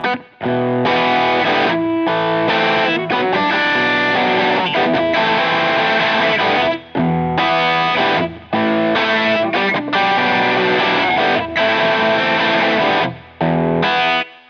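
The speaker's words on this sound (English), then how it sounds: "Now I'm using the Odyssey distortion for this." Electric guitar playing a rhythm accompaniment through an Odyssey distortion pedal: loud, saturated chords in choppy strummed phrases with brief gaps between them, played alone with no talk.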